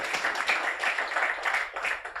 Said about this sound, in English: So at least we can give a clap to me.